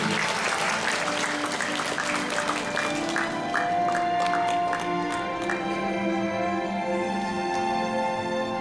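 Steady, dense applause from an audience fills the hall at a Buddhist Puren award ceremony in Tainan, close and full at first, then continuing as sustained music tones rise beneath it.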